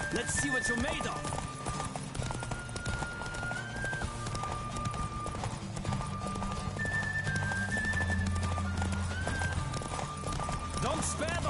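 Hooves clip-clop steadily at a fast gallop through a horse race in The Witcher 3, with an occasional whinny, loud and continuous beneath voices shouting encouragement and game music.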